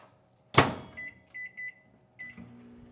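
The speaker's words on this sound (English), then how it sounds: "I'm going to put it in the microwave for the 1 minute" Microwave oven in a home kitchen while cocoa syrup is heated, with a sharp door thump followed by a series of short electronic beeps, then a brief clunk and one more beep, close and clear.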